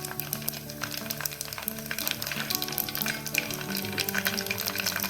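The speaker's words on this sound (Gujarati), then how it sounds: "આપણે આ ઊંધિયું વઘારવાની પ્રોસેસ ચાલુ છે અત્યારે." Cloves, mustard seeds and cumin sizzle in hot oil as the tempering for chaapdi undhiyu, a steady close crackle with sharp pops spattering throughout.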